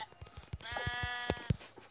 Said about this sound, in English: Yes, I found some sheep! I found two sheep.